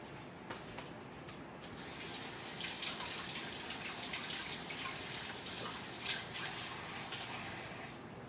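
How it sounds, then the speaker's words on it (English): Water runs steadily from a kitchen tap while something is rinsed off, a continuous close splashing hiss that holds for several seconds. "Rinse it off."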